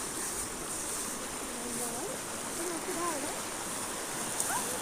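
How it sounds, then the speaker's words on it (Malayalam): Steady babbling of river water at a riverbank fills the background, with faint birdsong chirps rising over the flow. "നല്ല രസമില്ലേ പുഴൻ്റെ കളകളാരവം കേൾക്കാൻ"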